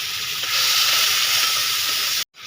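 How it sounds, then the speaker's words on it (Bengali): Prawns coated in salt and turmeric fry in a wok, giving a loud, steady close-up sizzle that cuts off abruptly near the end. "আজকে চিংড়ি মাছগুলো নুন হলুদ মাখিয়ে কড়াতে ভেজে নিলাম"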